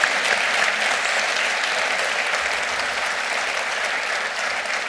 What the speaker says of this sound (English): Please give these phenomenally brave women a huge round of applause.